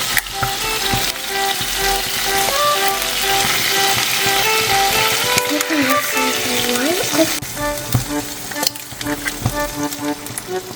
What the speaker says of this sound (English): add just a touch of olive oil in there, and start cracking your eggs in